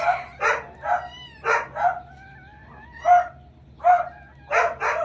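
Dogs bark outside near a dog giving birth, a series of sharp, moderately distant barks in uneven bursts, mixed with a rooster's crowing and a few whining, rising calls.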